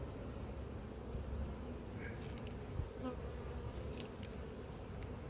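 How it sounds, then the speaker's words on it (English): Honeybee drones at a hive in an apiary make a dense, steady buzzing that fills the whole clip, close and constant, with no one speaking. "Lots of drone noise, drones coming out."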